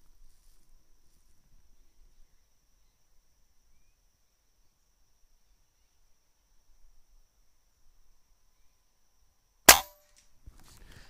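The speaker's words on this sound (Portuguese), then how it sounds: "Vou dar mais uns disparos aqui pra gente ver como é que ela vai ficar na cronografagem também" After a long stretch of near silence, a single sharp, loud shot from a scoped Beeman air rifle cracks out close by, fired over a chronograph, followed by faint handling noise.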